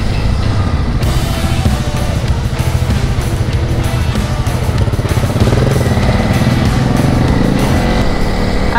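An adventure motorcycle rides a bush trail toward a ghost town, its engine droning loud and close throughout with steady revving, rattling and clatter over rough ground.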